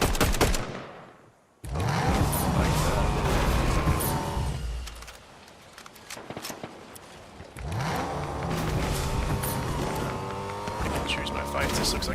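A car in Fortnite, heard as a steady engine drone under near-continuous gunfire and game effects, with a brief dip in the middle and a person talking throughout.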